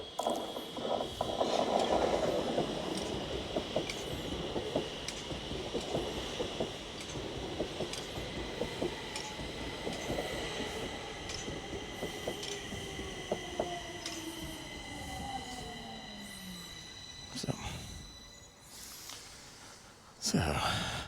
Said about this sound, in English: Anyway, here comes the train.